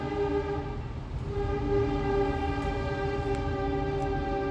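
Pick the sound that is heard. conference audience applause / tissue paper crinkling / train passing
train passing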